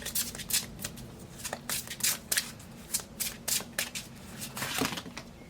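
Tarot cards shuffled by hand in a quiet room, a string of close, crisp riffling bursts with short pauses between them, no voices.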